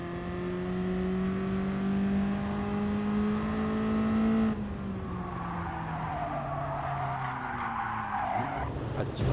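A BMW E30 drifts in Gran Turismo Sport, its tyres squealing in a long, steady screech over a droning engine that drops in pitch partway through, then changes tone as the slide continues.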